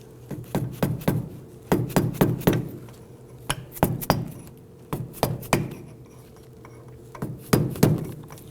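A 2008-2011 Ford Focus wheel cylinder cap is tapped into place with a blunt-edged chisel, giving bursts of sharp metallic taps in quick clusters with short pauses between, close and fairly loud.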